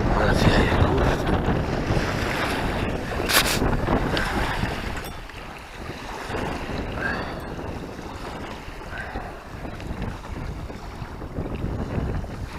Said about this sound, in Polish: Ale wieje, kurde.